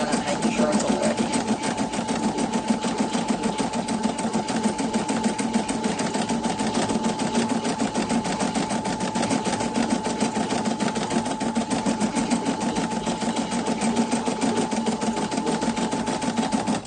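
Sewing machine stitching over several threads at once, a loud, rapid, steady mechanical chatter that runs continuously with an even rhythm throughout.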